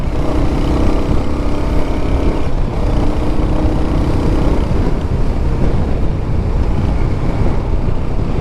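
A Royal Enfield Hunter motorcycle engine runs steadily while riding, with a constant low rumble and wind buffeting the microphone throughout.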